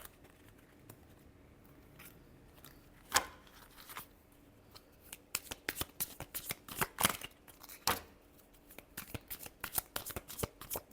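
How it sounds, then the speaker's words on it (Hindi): Tarot cards are shuffled up close, a soft riffling and flicking that starts sparse and quiet, then builds into dense, quick bursts of card snaps with no talking. "Last shuffle."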